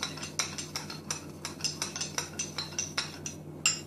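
Quick, steady whisk strokes clink against a bowl, close and crisp, roughly a dozen evenly spaced beats with no voices.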